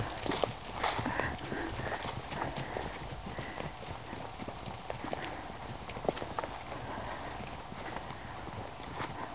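A herd of horses walking through a meadow, hooves clip-clopping in a steady, uneven patter of light knocks, fairly close and continuous, with faint voices and a snort or two mixed in.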